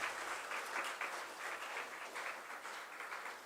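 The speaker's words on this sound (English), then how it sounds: "Please a huge round of applause." An audience at an international conference on communication and computational technologies, at the National Forensic Sciences University Goa campus, gives sustained, dense applause, steady and fairly loud for the whole stretch.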